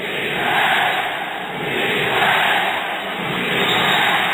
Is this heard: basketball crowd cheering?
yes